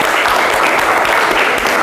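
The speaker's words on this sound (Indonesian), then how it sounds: "Tepuk tangan buat kita semua." Classroom applause from pupils after a successful physics project demonstration, dense steady clapping filling the room for nearly two seconds, loud and close, with no talk over it.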